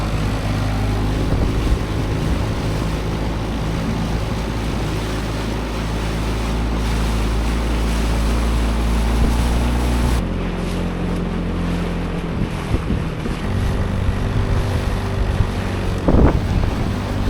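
A dinghy outboard motor drones steadily and close on the sea off Malta, with wind buffeting the microphone and water splashing against the hull.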